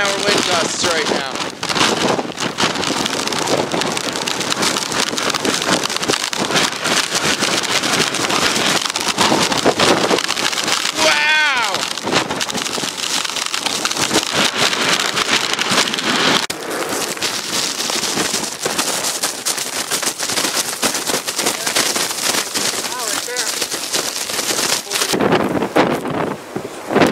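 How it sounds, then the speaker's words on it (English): Fierce blizzard wind gusts of about 60 mph in North Adams, Massachusetts, roar and buffet the microphone nonstop as loud, rough, continuous rumbling noise with no letup. "Getting easily 60-mile-an-hour wind gusts right now."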